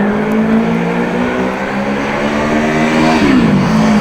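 A motorbike accelerates through a long first gear, its engine drone loud and steady as the pitch climbs gradually, then drops with a gear change near the end.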